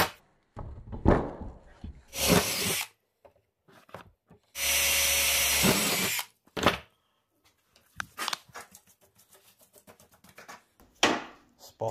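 A power drill bores through steel during gate fabrication with a few sustained whirring bursts, and sharp knocks and scraping in a workshop fall between them.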